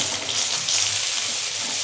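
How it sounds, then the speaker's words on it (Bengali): Cauliflower frying in hot oil for a fish curry, a constant loud hiss and sizzle, close and steady throughout with no talking. "প্রথমে আমি ফুলকপিগুলো ভেজে নেব।"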